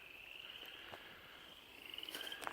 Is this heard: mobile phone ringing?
no